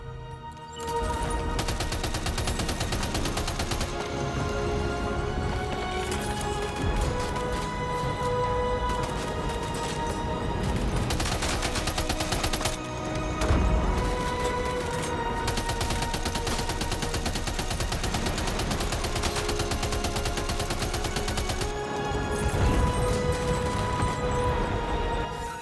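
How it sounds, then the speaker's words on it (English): Gunfire in the video game Death Stranding 2: dense, sustained bursts of shots and rapid automatic fire roll on almost nonstop, loud and close, with only brief gaps. "Well, I can't even see who's shooting me."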